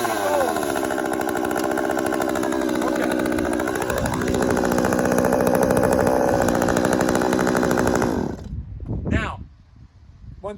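A chainsaw engine roars loudly and steadily at close range for about eight seconds before it cuts out and sputters down.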